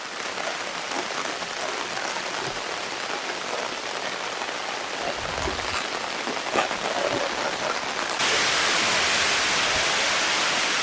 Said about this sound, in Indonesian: Hari masih hujan lagi. Makin lebat.